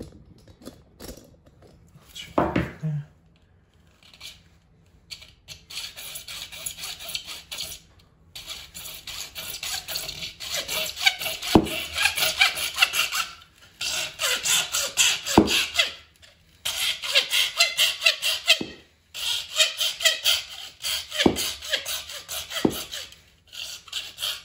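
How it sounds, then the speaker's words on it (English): A hacksaw trims an eighth of an inch off during shower pan tile work, with repeated rhythmic rasping strokes in bursts, close and moderately loud, separated by short pauses. "Nothing like taking an eighth of an inch off with a freaking hacksaw"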